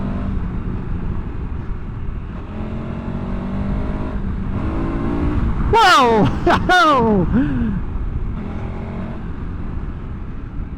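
A 2024 KTM 1290 Super Adventure R engine drones steadily, then revs hard in two sharp rising bursts through the gears, heard close from the rider's position with wind noise and a brief exclaiming voice.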